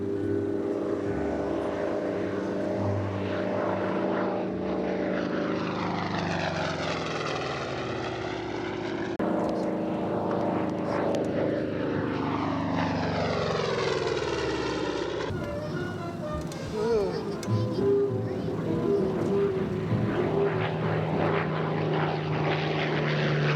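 P-47 Thunderbolt propeller warplane making passes at the Bremerton air show, its engine drone rising and falling as it sweeps by repeatedly, loud and steady with Doppler shifts and no talk.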